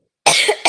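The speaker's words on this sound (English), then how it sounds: "still got a little bit of cough" A single sharp, close cough, with a brief second burst at the end, from someone still getting over a lingering cough, loud in otherwise quiet surroundings.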